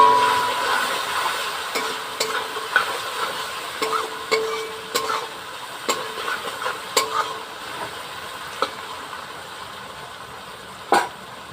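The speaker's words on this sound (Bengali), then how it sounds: "ভেন্ডি আর বরবটিগুলোকে ভেজে নিই" Okra and yardlong beans frying in oil, a continuous sizzle punctuated by repeated sharp clinks and scrapes of a spatula stirring in the pan, close and fairly loud, with no voices.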